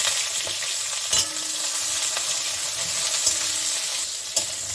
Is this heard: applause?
no